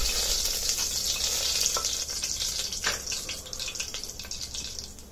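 Garam masala spices spluttering and crackling in hot oil, a dense sizzle with scattered sharp pops and a few clinks, close by and gradually easing off.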